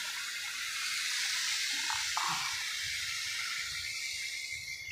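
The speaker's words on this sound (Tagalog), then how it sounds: "Tapos, dagdagan natin ng tubig." Water is poured into a pan of sautéed chayote with ground meat and shrimp, giving a steady soft hissing pour with a couple of faint clinks and no talking.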